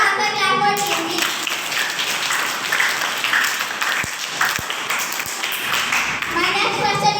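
Applause from an audience rewarding Team B's correct answer at a quiz competition, a steady wash of many hands clapping at moderate volume throughout, with a few sharp taps near the end.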